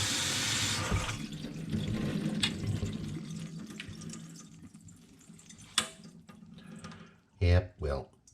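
Tap water runs over sprouting buckwheat groats in a sink, a steady splashing rinse that thins out, followed by a few sharp knocks and thuds, with a voice talking over it.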